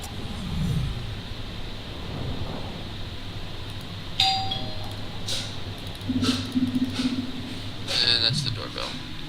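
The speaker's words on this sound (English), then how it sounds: "And that's the doorbell." Doorbell ringing in the game Novus Aeterno, a few bright chime tones heard while people talk over steady background noise.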